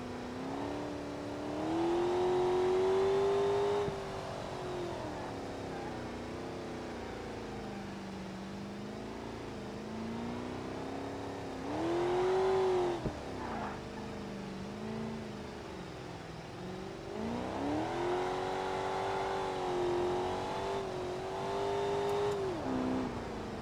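A Kei truck fitted with a small-block engine in BeamNG revs and drops repeatedly through an autocross run, its steady rising and falling drone loud and close with no talk over it.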